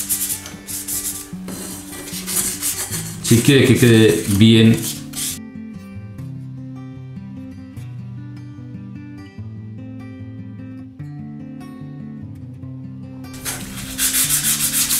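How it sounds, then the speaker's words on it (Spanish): Sandpaper rubbing over the wooden parts of an OcCre Flying Dutchman model ship kit, a rasping scrubbing heard in the opening seconds and strongest in a loud burst near four seconds, with music and a voice over much of the rest. "lijar es fundamental"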